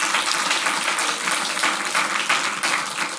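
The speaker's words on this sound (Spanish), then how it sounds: "Yo le diera un aplauso al Rey." A church congregation breaks into steady, even applause for several seconds, a dense hiss of many hands clapping at moderate loudness without talk.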